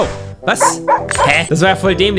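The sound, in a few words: dog barking in a video game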